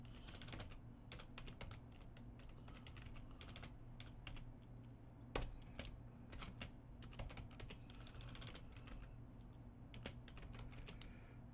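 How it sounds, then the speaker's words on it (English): Quick, continuous typing on a computer keyboard, with rapid uneven key clicks picked up faintly by a nearby mic over a low steady hum. "I hope my mic can pick up my typing"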